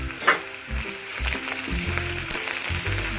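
Dal and turmeric being sautéed in a pan, a steady sizzle over low rhythmic scraping and knocking of a spoon against the pan, close and fairly loud.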